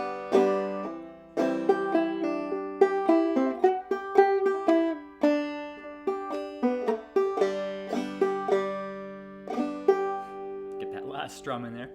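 Clawhammer banjo picks out the B part of the tune Waterbound, with bright plucked notes, brushed strums and drop-thumb strokes in a steady rhythm, played up close and alone without talk.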